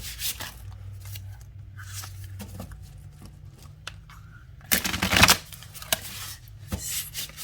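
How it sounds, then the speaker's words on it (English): Cards being shuffled close up: soft riffling and flicking in short bursts, with a louder rapid riffle partway through, no voices. "Let's give it a good shuffle."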